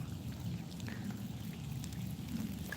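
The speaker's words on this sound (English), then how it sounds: "it's raining" Rain falls steadily, a soft, even hiss with scattered drops, faint and continuous with no voices.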